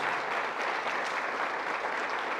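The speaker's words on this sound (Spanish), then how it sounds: "¿Qué tal si le damos un aplauso a ese Dios de propósitos?" Steady applause from a church congregation during a Spanish-language service, a dense even roar of clapping with no voices over it.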